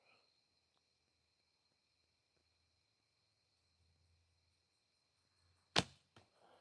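A single sharp arrow release with a loose nock from a recurve bow, one loud crack followed by a faint rattle, after a near-silent stretch with a steady high tone in the background.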